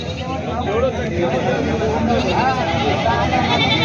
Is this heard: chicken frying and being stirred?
no